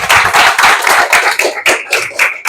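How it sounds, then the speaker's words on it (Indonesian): A class of students claps together, a dense burst of loud close applause with uneven rhythmic slaps that pulse and fade slightly near the end. "Tepuk tangan untuk kita semua"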